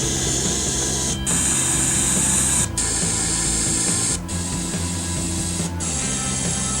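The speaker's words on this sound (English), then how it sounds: "I actually do a noise test too." Steady hiss of noise-test static from surround speakers on a sound card, loud and continuous, briefly dipping roughly every one and a half seconds as it switches from one speaker to the next.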